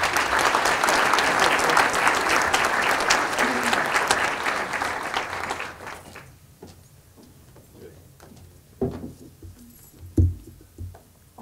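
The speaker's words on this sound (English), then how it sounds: "Give them a hand." Audience at a Classified Employee of the Year awards ceremony applauding the honorees, loud sustained clapping for about six seconds that then fades to a few scattered claps and small noises.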